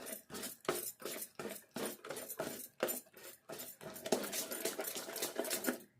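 A spoon beats thick idli batter, with salt and other ingredients added, in a bowl in a fast rhythmic series of clinking, scraping strokes close by, the stirring growing denser and more continuous toward the end.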